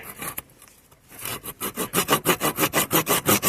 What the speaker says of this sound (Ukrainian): Вже потім як ріжу, видно, чути, що він сухий, як ножівка погано бере.